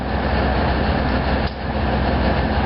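A loaded train of ballast cars rolls past at close range at the Thorndale rail station, a loud, steady rumble and rattle of wheels on track filling the air with a brief dip midway.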